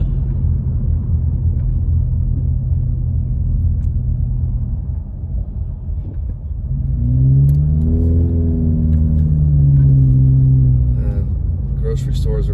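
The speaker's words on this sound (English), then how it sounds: "it's just irritating how loud the damn car is" A loud car kept five years and fitted with train horns rumbles at idle, then its engine revs up and holds a rising, throaty drone before settling; someone talks over parts of it.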